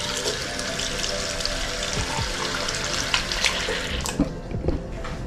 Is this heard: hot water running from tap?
yes